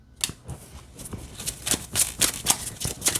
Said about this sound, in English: It still shuffles just fine.